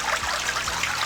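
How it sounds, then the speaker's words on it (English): Steady, close trickle of water running through a canyon at Pinnacles National Park, a continuous bright wash with no voices. "I hear water."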